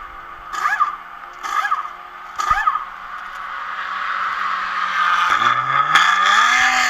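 A race car pulls out of a pit stop at Sebring after refueling and a left-side tire change. Three short air-gun bursts give way to a loud, rising engine rev that climbs steadily as the car gets underway.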